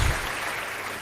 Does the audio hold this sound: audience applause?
yes